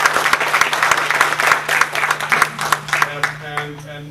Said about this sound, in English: So I'd like to ask you to applaud our elected officials.